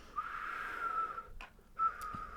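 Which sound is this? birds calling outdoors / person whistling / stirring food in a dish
person whistling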